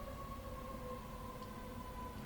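A distant emergency siren drifts in through an open window, a faint, steady wailing tone holding under quiet room ambience with no talking.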